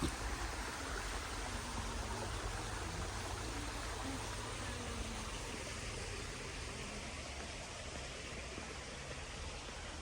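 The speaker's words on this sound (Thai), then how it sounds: "เสียงน้ำตก" Steady waterfall in a natural forest at a botanic garden in Wellington, New Zealand, a constant broadband rushing roar of falling water that stays even and continuous throughout, with no voices heard.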